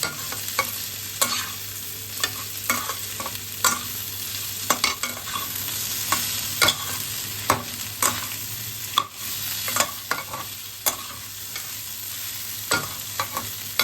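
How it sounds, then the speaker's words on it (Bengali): Boiled potatoes being stirred and sautéed in a pan for Bengali potato fritters, with a steady oily sizzle and repeated scraping knocks of a spoon against the pan, no voices. "এদিকে আলুটা আমাদের খুব ভালোভাবে কষানো হয়ে গেছে।"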